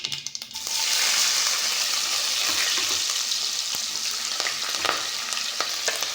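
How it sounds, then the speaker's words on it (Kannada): Onions hit hot oil with mustard seeds for hasi avarekalu huli, bursting into a loud, dense sizzle after a few stirring clatters, then a steady close frying hiss with scattered spoon scrapes. "ಚೆನ್ನಾಗಿ ಫ್ರೈ ಮಾಡ್ಕೊಳ್ಳೋಣ."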